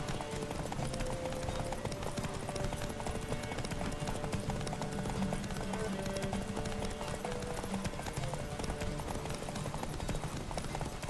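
Horse hooves clip-clop steadily in The Witcher 3 video game, a continuous rhythmic trot at moderate level under faint ambient game sound.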